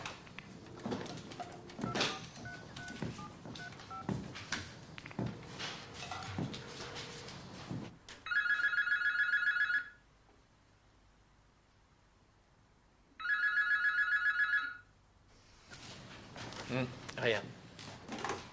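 A landline telephone rings in two clear bursts separated by a quiet gap, following a stretch of talk at the start, and talk resumes after the second ring.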